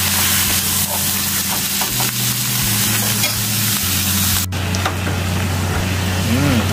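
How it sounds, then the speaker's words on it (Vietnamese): Onions stir-fried in a pan alongside beef for a beefsteak dinner, a steady close sizzle with stirring scrapes and a constant low hum throughout. "Mình xào củ hành này cho nó thơm, chín."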